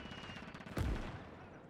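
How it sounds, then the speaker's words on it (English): A 20 mm heavy machine gun firing in the Gates of Hell WW2 strategy game, one short burst peaking near the middle, fairly faint under game ambience. "I'm hearing some sort of heavy machine gun. Oh, it's a 20 millimeter."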